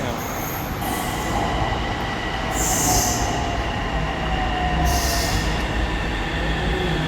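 A Bangkok metro train rumbles into Tao Poon station, wheels squealing and screeching at intervals as it slows, with a steady roar throughout and faint voices underneath.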